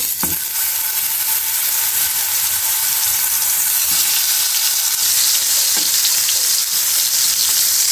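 Eggplant frying in hot oil in a home kitchen pan, a steady dense sizzle throughout with a few brief clinks of utensils, no talking.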